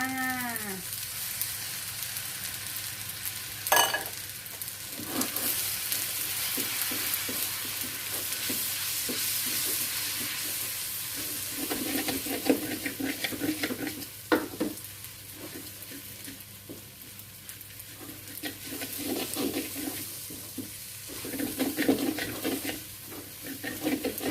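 Shrimp pad thai stir-fries in a pan as freshly made sauce goes in, giving a continuous close sizzle broken by repeated scraping and tossing strokes.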